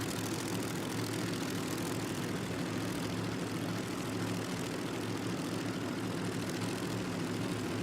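An altered drag racing car engine running during testing, heard as a steady, distant droning hum held at a constant faint level for the whole stretch, with no talk.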